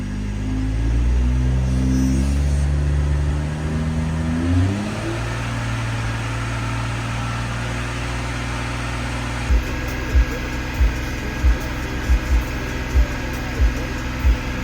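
A car engine idles at a steady, low rumble with no revving; a few soft knocks come through toward the end.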